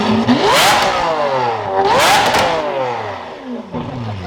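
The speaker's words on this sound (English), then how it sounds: "that exhaust, I'm telling you guys, like, that exhaust is getting louder." A widebody Corvette C8's loud exhaust revs twice, rising and falling with a throaty roar, then settles into a rumbling idle with crackles, close by.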